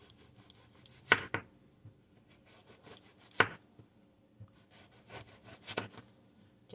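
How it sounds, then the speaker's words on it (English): A knife slices through washed, skin-on potatoes on a board, giving a few sharp separated chops with quiet gaps and soft scraping between them, close and moderately loud. "let's cut our potato."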